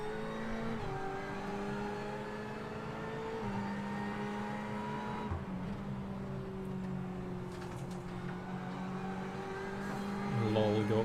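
An ordinary petrol engine sound, scripted to mimic a CVT in a racing video game, holds a steady droning tone that shifts pitch in smooth steps, moderately loud and continuous, rising near the end.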